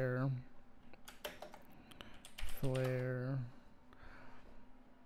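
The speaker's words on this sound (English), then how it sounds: "Let's type in flare." Quick bursts of clicks from typing on a computer keyboard, close and clear, fall between two stretches of a voice.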